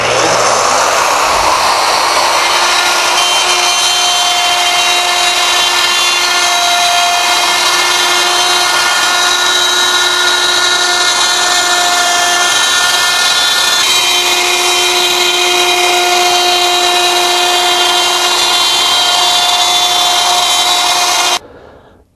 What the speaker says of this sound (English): Now we'll start the router up and we'll cut the new oval